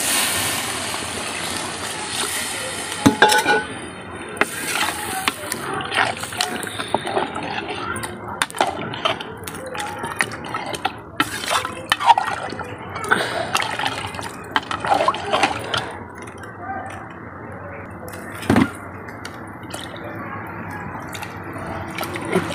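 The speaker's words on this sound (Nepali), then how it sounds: "अब चाहिँ ग्रेभीको लागि पानी राख्छु" Water is poured into a pan of fried soybeans to make gravy, with trickling, splashing and occasional clinks of utensils, while a person talks throughout.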